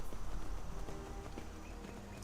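A horse's hooves in the Skyrim video game, a continuous run of soft muffled clops over a dense game soundscape, moderately loud and steady.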